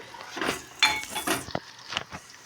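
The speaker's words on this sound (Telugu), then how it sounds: "దీంట్లో నేను టమాటాలు వేస్తున్నా" Chopped tomatoes tipped into a pot of Mysore dal on the stove, with a few clinks and knocks of metal utensils against the pot, close and fairly quiet, no talking.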